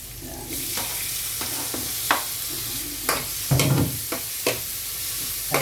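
Tomato with crushed black pepper sautéing in a pan, a steady sizzle punctuated by repeated spatula scrapes and knocks against the pan, close and with no talking.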